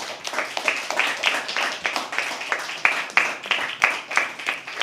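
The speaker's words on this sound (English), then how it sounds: "Can you please have a round of applause for that?" An audience at a live poetry open mic claps in a steady stream of applause, many hands close by, lasting throughout without fading.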